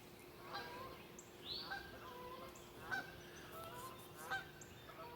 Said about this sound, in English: Some honkers going over.